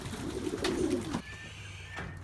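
Racing pigeons give a low, rolling coo close by, with a soft knock or shuffle after it in a quiet loft.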